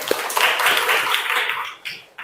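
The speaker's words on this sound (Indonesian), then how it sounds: "tepuk tangan dulu buat Rima." Brief classroom applause for a student bursts out as a dense, short patter of hands clapping, fading after about two seconds, with a voice faintly present.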